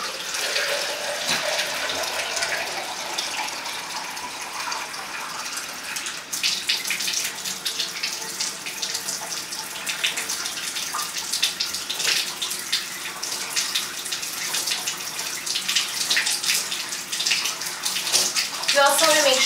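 Water runs steadily from a tap into a bath while a bulldog is rinsed, a constant close splashing gush lasting throughout, with voices talking faintly underneath.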